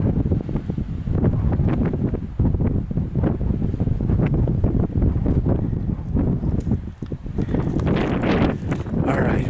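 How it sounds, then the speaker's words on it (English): Strong, continuous wind on Ben Lomond mountain buffeting the microphone with a heavy roar and gusty rumbling throughout. "Where's a spot out of the wind here?"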